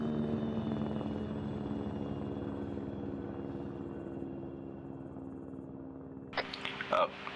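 Mi-8 helicopter in the game Arma 3 thrums with a steady rotor and turbine drone, fairly prominent and continuous, before brief voices and bumps cut in near the end.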